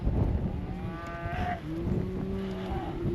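Cattle moo repeatedly in long, drawn-out calls, some close and loud and others overlapping, as a herd crowds a backpacking trail through Kaupō Gap in Haleakalā National Park, with wind rumbling underneath.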